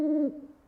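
A single owl hoot, voiced by a person imitating the bird during a storytime reading of Owl Moon, is a fairly quiet, smooth hollow tone that drops slightly in pitch and fades quickly.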